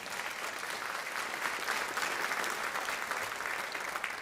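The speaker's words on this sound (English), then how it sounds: "let's give a round of applause to everyone involved" Steady applause from a convocation audience at Folsom Lake College, a dense even wash of many hands clapping throughout, moderately distant and filling the hall without a break.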